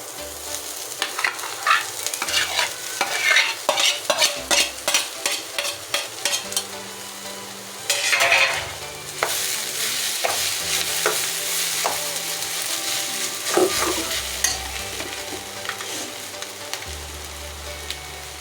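Mashed potato stirred into sizzling poori masala in a pan, with repeated close spoon scrapes and clatters over a continuous frying hiss, steady and fairly loud throughout.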